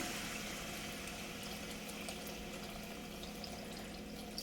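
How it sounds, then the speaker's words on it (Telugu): Tamarind juice is poured into a simmering okra curry, a soft continuous liquid wash with faint bubbling, quiet and steady throughout with no voices. "ఇప్పుడు చింతపండు రసం వేసేద్దామండి"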